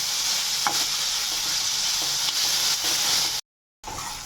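Fenugreek leaves and tomatoes stir-fry in hot oil for baingan bharta, giving a steady broadband sizzle with faint scrapes of stirring throughout, broken by a brief drop to silence near the end before the frying hiss returns.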